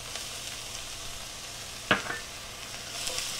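Garlic cloves sizzle in a pan with browned onions, a steady, moderately quiet frying hiss with one brief clink of stirring midway.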